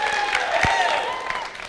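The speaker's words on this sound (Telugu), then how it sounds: "అందరూ గట్టిగా చప్పట్లు కొట్టాలి." Studio audience applause on the Telugu comedy show Jabardasth, a steady, dense clapping wash lasting under two seconds with a faint tonal backing beneath it.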